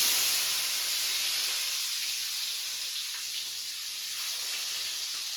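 Tomatoes sizzle in a hot pan, a steady broad hiss of frying that stays loud and even throughout, with no voices over it.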